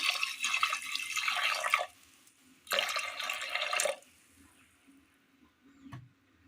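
Water pours into a pressure cooker holding chopped yam, onion and tomato in two close, gushing bursts separated by a short pause, followed by a faint knock.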